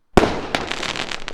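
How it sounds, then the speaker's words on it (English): Fireworks explode nearby, first one sharp loud bang and then a second, followed by a rapid run of crackling pops that fade slightly. "God, I'm being deafened by those explosions"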